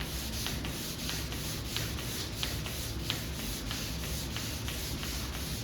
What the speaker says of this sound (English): we want to get this sanded down really flat so it's not gonna be ripply